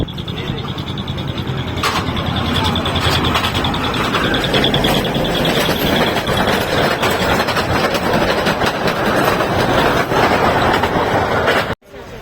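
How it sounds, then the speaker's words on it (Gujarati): A mini train on Elephanta Island, Mumbai, rumbles steadily with clattering wheels and engine noise, loud and close throughout, with voices in the crowd, then cuts off abruptly near the end. "આ જો આવેલી ટ્રેન મિની ટ્રેન"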